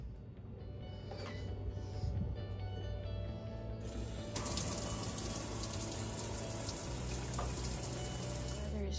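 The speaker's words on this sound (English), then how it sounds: "I'm gonna take a shower really quick." A shower runs with a steady, continuous hiss of falling water in a home bathroom, fairly close. The spray brightens and grows louder about halfway through.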